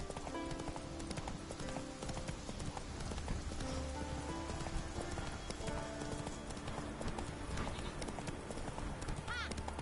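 Hoofbeats of Roach, Geralt's horse in The Witcher 3, clop steadily throughout beneath dense game music and ambience, with someone talking over parts of it.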